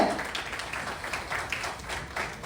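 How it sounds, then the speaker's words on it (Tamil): A crowd at a foundation's grand launch and award ceremony applauds, a dense, steady patter of many hands at moderate distance lasting the whole moment. "பலத்த கரகோஷத்தோட"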